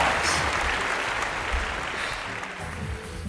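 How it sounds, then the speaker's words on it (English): An audience at a summer reading balloon magic show in a library gives a dense, steady round of applause. It holds at an even level for a few seconds with little talk. "Give yourselves a big round of applause!"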